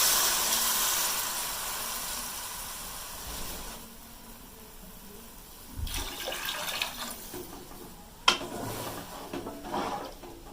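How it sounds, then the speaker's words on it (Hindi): Water poured into a cooking pot of fried masala for Pakistani aloo pulao, a rushing pour that fades to a low trickle, followed by a few splashy, clattering bursts near the end. "अब इसमें पानी ऐड कर देंगे।"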